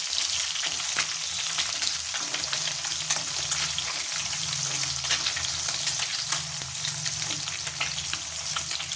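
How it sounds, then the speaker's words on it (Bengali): Fish pieces fry in hot oil until crisp and reddish for a fish curry, a dense, steady sizzle and crackle with scattered pops. "চলো এই সমস্ত মাছগুলো আমি ভেজে দিই,"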